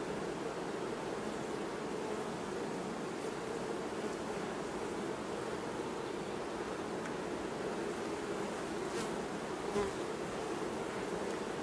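A dense, continuous drone of many honey bees rises from an opened hive while queen cells are being checked and destroyed, the buzzing steady and close with no talk over it.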